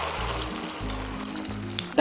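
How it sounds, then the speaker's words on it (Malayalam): Beaten egg pours into hot oil in which mustard seeds have already popped, giving a soft, close frying hiss beneath a music bed, with a brief clatter at the end. "അടിച്ചു വെച്ചിരിക്കുന്ന മുട്ട ഒഴിച്ചു കൊടുക്കാം"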